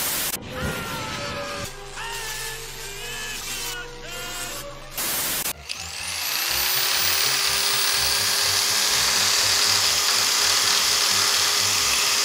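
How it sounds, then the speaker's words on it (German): A power drill driving a small homemade concrete vibrator whirs up, then runs at a loud, steady high-pitched whine for several seconds, close by, after some brief mechanical clattering. "Und zwar die Bohrmaschine hier."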